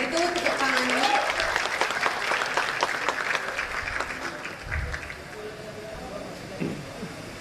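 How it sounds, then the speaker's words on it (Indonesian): An audience at a graduation ceremony applauds, a crowd's clapping that is strongest at first and fades over several seconds. Voices murmur beneath it, and a few low thumps follow. "Maka dari itu tepuk tangannya."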